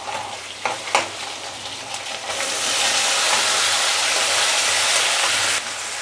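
Rough paste of two medium tomatoes dropped into a pan of frying masala for Bhangor fish curry, a couple of soft clatters followed by a loud, steady hiss of sizzling that holds for several seconds.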